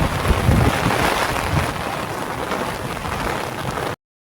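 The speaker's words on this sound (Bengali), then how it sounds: "প্রচুর বৃষ্টি হচ্ছে" Heavy rain pours during a windy storm at a roadside camp in Rajasthan, a dense loud hiss of drops close by, steady for about four seconds and then cutting off abruptly.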